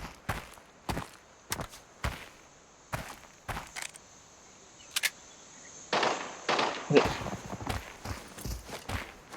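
Gunfire in the video game Arena Breakout: a string of sharp single shots spaced a second or so apart, then a denser burst of shots and movement noise, fairly close, with no talking.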